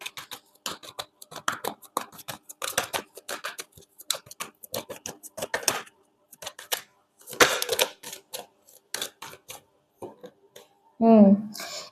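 Tarot cards being shuffled and drawn in a reading, heard as dense rapid flicks and soft riffles in bursts, with a voice speaking near the end.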